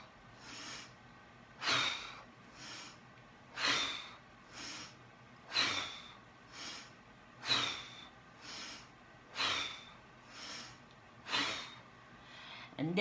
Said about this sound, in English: And you breathe in.